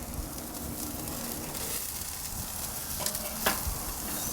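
A bone-in ribeye sears over open flame on an SNS kettle grill, giving a loud, steady crackling sizzle with a few sharp pops near the end and no voices.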